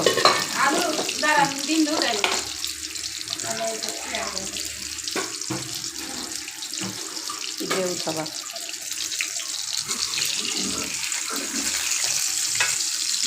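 Potatoes fry in a pan for a Bangladeshi potato-and-egg dish, a steady sizzle with stirring and water-like splashes throughout, while a voice speaks faintly at times.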